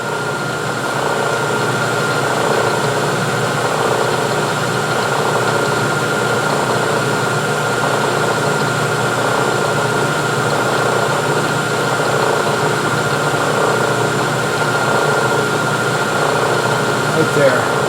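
A milling machine cuts a slot in a lathe carriage stop body, giving a loud, steady droning whir with a constant mechanical hum that holds even throughout.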